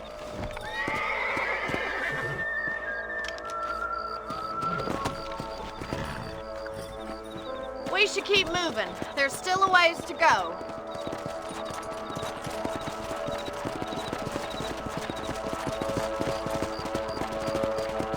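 Horses in Red Dead Redemption neigh and whinny while their hooves clip-clop along at a walk, with a burst of louder whinnying midway, under game music and a short line of spoken dialogue.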